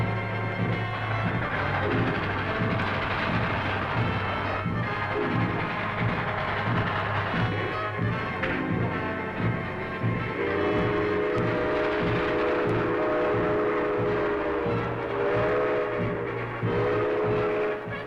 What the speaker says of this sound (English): There's a train heading into us.